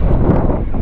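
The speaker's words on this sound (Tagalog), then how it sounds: "malakas ang hangin at the same time" Strong wind buffets the microphone outdoors in Paluan under hot sun, a steady broadband roar that stays loud and close for the whole short moment with no voices.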